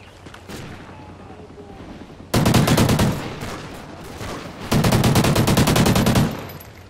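Bursts of automatic gunfire from the shooter video game Call of Duty Ghosts, two sustained rapid-fire volleys of loud, close shots separated by quieter game ambience with faint talk in the background.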